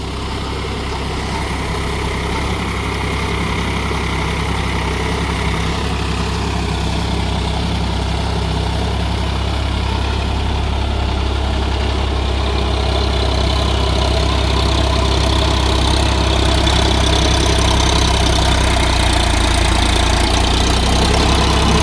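A Solis 4415 4WD 45 HP tractor engine running steadily nearby with a Gomathi rotary tiller during puddling work, a loud, continuous low diesel rumble that builds slightly in intensity throughout, with no voices.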